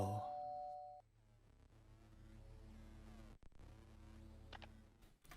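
A doorbell rings with a clear ding-dong tone in a game called Der Bell, followed by a sustained droning musical bed with low hum and a brief dropout midway.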